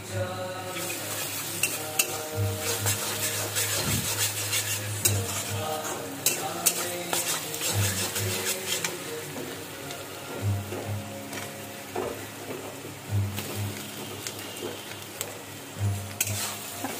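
Onion, garlic and ginger paste fry in a pan for a rajma curry, giving a steady close sizzle. Repeated spatula scrapes and utensil clinks break in at intervals, with a low hum running beneath.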